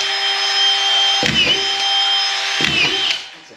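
A power screwdriver drives screws, a steady high whine broken by two heavier grinding bursts as screws bite in, loud and close with no talking.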